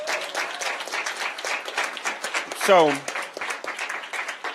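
An audience at a faith and labor panel in Memphis applauds a pastor. Clapping is mostly buried under someone speaking over it throughout, with a brief rising whistle-like sweep partway through.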